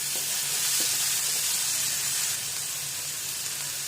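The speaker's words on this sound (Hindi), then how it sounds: "अब नमक और शिमला मिर्च को प्याज के साथ अच्छे से मिलाइए और इसे थोड़ा सा भून लीजिए।" Capsicum and onion with salt fry in a pan, giving a steady broadband sizzle that holds for the whole stretch and eases slightly toward the end, with a few faint stirring clinks near the start.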